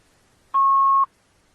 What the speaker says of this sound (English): I'm getting a beep out there.